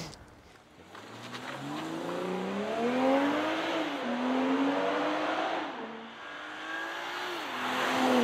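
BMW 240i coupe accelerating hard from standstill to 100 km/h, its engine note rising loud and steady through several gear changes, each upshift marked by a brief dip before the revs climb again, heard from inside the car.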